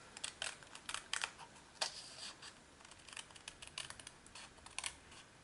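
Scissors snip through paper while cutting out a swallowtail butterfly shape: close, quiet, irregular clicks and crisp snips in quick succession, with no talking.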